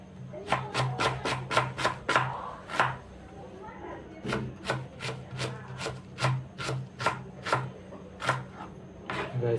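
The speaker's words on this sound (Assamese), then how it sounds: "এয়া পিঁয়াজ কাটি আছোঁ" Onions being chopped on a board, a fast run of crisp knife strikes followed by steadier, slightly spaced chops, close and clear with faint background hum.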